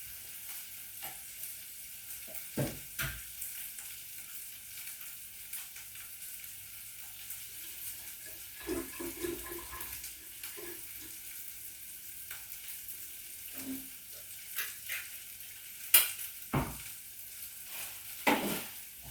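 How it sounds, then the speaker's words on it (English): Mixed vegetables frying in a pan for a Jamaican-style saltfish dish, with a soft steady sizzle and scattered clinks and scrapes of stirring, close and fairly quiet. "I'm going to put in the mixed vegetable."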